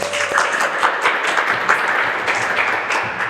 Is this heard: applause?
yes